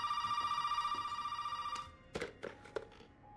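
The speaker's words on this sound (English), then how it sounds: "Now we got the next phone call" A telephone bell rings in a steady, rapid electronic trill in Resident Evil 7: Biohazard, then stops and is followed by a few dull thunks as the handset is picked up.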